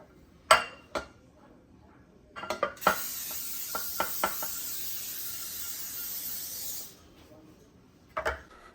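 A spoon clinks and scrapes in a bowl while cream cheese filling for jalapeño popper biscuit bombs is hand-mixed, with a few sharp taps, then a steady hissing stretch, and more knocks near the end, no talking.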